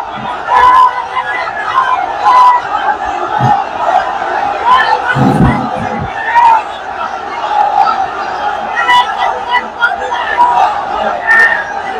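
A large crowd at a political rally roars a takbir slogan in repeated loud surges, voices massed and echoing continuously with cheering and shouts throughout.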